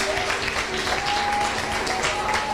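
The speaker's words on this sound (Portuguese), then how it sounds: "Dá um aplauso, Jesus." A church congregation applauds during a Portuguese-language Sunday service, with steady, dense clapping that fills the room throughout at an even level and a faint tone sustained underneath.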